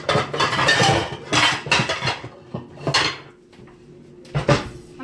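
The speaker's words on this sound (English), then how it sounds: "let me get down here so I can get this white skillet" A white skillet is pulled from a kitchen cupboard, with repeated clanks and scrapes of pots and pans being shifted, cupboard knocks, and several loud metallic bursts in the first three seconds, then a quieter pause and a final clatter near the end.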